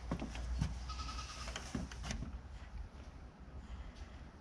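Bottle-raised baby goats bleat on a farm, a few close, loud cries early on fading into quieter scuffling and background noise, with no talking.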